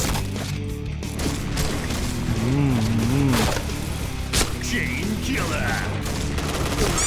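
Soft, muffled bow shots from a video game fire in a loose series of dull thumps amid busy game effects and background music, with someone talking over them.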